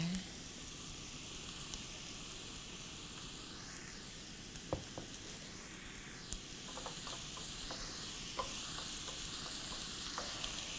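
Garlic frying in a pan for an Iranian kashk-e bademjan dish, a steady low sizzle throughout with a few light clicks and stirring taps scattered over it, close and moderately quiet.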